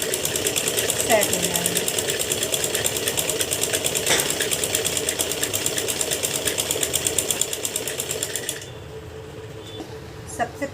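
A sewing machine runs a continuous basting stitch through lehenga fabric and lining, a steady dense whirring that stops near the end, with a voice speaking briefly over it.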